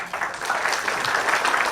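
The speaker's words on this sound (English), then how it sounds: "with your warm round of applause" Audience at a book discussion of Gopinath Pillai's memoirs gives a warm round of applause, steady and moderately loud clapping that swells slightly after a brief start and continues without talk.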